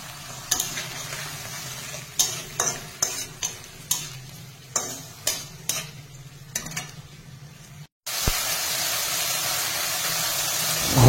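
Spice paste hitting hot oil with fried onions in a pan for a village-style chicken skin curry, a bright sizzle broken by a run of short rhythmic stirring scrapes, then a sudden steady loud frying hiss near the mic.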